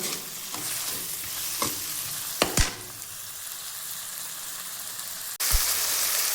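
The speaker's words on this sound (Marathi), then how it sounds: "आता हे चांगलं फ्राय होऊन देते" Turmeric, red chilli powder and salt fry in a pan with a steady, loud sizzle. A few knocks from stirring break through, and the frying surges again near the end.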